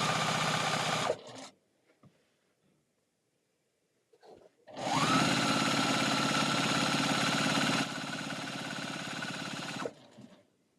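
A sewing machine stitches quilt strips together in two bursts: a short run, then after a quiet gap with faint handling noises a longer, steady whir that eases slightly in speed before stopping.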